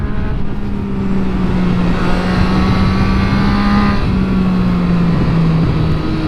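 A motorcycle engine drones loud and close at a steady, high pitch through a wheelie attempt, with only slight shifts in tone and no speech.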